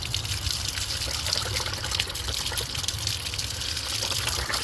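Water flows from a sprinkler system pipe outdoors, a continuous splashing, gushing trickle that holds steady throughout at moderate level without speech.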